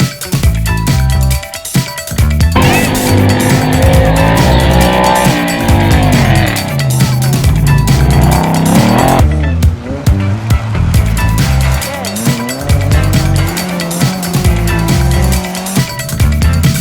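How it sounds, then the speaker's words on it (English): A race car doing a burnout after a day of off-road racing, with loud engine roar and sustained tire squeal rising and falling, close and continuous. "a hard day's racing would often be followed by a good old-fashioned burnout competition"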